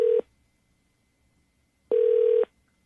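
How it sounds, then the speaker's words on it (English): Two ringback tones on an outgoing phone call, a short burst then a longer half-second tone after a pause, steady and clear with no talking. "it's ringing"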